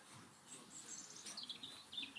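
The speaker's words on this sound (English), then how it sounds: "Can you hear the birds?" Birds sing outdoors on a bright day, faint high chirps and short trills scattered at a distance over a quiet background with no voices.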